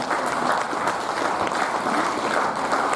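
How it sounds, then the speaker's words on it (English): Sustained applause from a sports-event audience greets a women's compound archery team at the 39th National Games, a dense, steady wash of many hands clapping at a moderate distance. "Come on, let's hear a huge round of applause, ladies and gentlemen."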